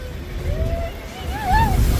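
Boat moving across Lake Austin with water splashing and surf-like wash against a steady low rumble of engine and wind, under the voices and cheers of passengers nearby.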